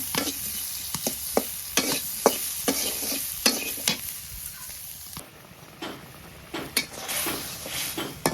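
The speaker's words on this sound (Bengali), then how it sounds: "আলু এটা সেদ্ধ ভেজে নিতেছি" Boiled potatoes fry in oil in a pan, a steady high sizzle broken by repeated sharp scrapes and knocks of a stirring utensil, close and fairly loud, with no talking.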